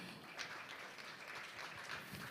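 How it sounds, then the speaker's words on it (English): Applause at an alumni association launch event in a hall, a faint, distant, continuous wash of many hands clapping, steady throughout. "Please give once again applause"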